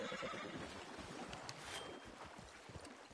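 Horse neighing with clip-clop hooves in the video game Red Dead Online, set outdoors during a hunt; a whinny rises early over steady ambient noise, followed by scattered hoof thuds at moderate distance.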